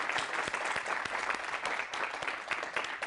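Audience applause, a steady patter of many hands clapping together, fairly faint and continuous without any voices.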